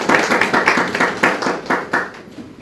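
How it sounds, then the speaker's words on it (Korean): Audience clapping to welcome a speaker at a social entrepreneur training session, several pairs of hands in uneven bursts that swell and fade over a few seconds, fairly close and moderately loud. "큰 박수 부탁드리겠습니다."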